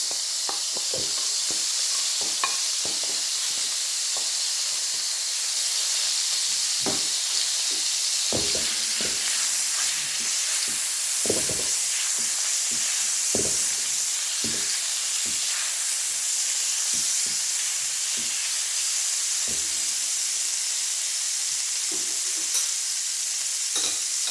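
Two cloves of chopped garlic sizzle steadily in a hot pan for a tomato sauce, a continuous bright hiss with scattered pops and stirring clicks, fairly close and with no talking.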